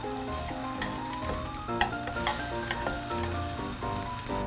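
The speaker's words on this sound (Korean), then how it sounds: "표고의 윗부분은 잠깐 지져냅니다" Shiitake mushroom pancakes frying in a pan give a steady, close sizzle with crackling oil pops and a few light clinks of a utensil, with no talking.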